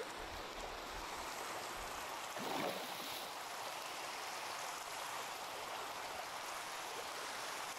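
Minecraft water flowing in a low, steady wash, faint and continuous, with a brief swell partway through.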